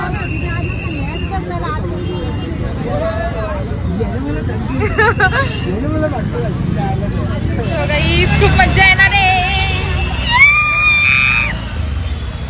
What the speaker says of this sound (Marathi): खूप गर्दी आहे गाईज, खूप जास्त गर्दी आहे.